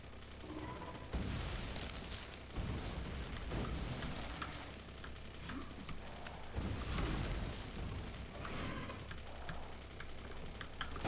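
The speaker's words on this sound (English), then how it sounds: "I dropped a grenade." Grenade explosions in the video game Factorio come as a few heavy broadband booms, each sudden and loud, spaced several seconds apart over continuous game noise.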